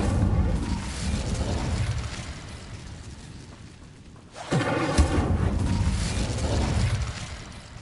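Incendio fire spell cast in Hogwarts Legacy, a sudden whooshing burst that flares up and roars for a few seconds over a rumbling game background, no speech.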